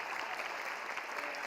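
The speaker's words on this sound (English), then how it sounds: "Can we have a round of applause for her real quick?" Dense, even applause from an audience at an MLK Day celebration, a brief continuous burst of many hands clapping at a distance, with no voices standing out.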